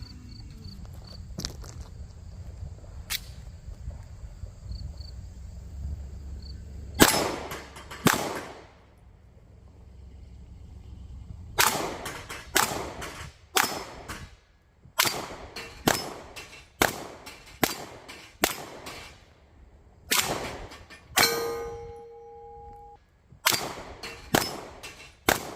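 A Taurus G2 pistol fires XTP +P rounds in a string of sharp, loud reports at irregular intervals after a quiet stretch, some shots in quick pairs, with faint outdoor background between them.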